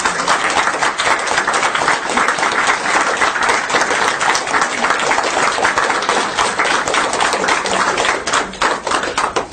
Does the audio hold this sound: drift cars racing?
no